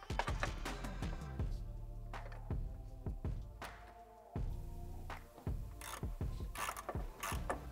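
A socket wrench ratchets in short bursts of sharp clicking to tighten a bolt holding a voltage regulator during a Cybertruck 48V-to-12V converter install, close and fairly quiet, with pauses between strokes.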